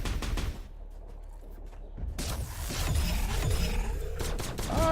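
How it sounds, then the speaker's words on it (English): Gunfire in the shooter game Aftercharge, a dense stretch of rapid overlapping shots and impacts after a short lull, loud and continuous toward the end. "shooting everywhere"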